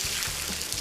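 Pelmeni dumplings fry in a kazan over a campfire, giving a steady, close crackling sizzle with no voices over it.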